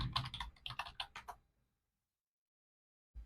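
A computer keyboard clicks in a fast, close run of keystrokes as a browser search is typed, then the sound drops into near silence before one last brief tap.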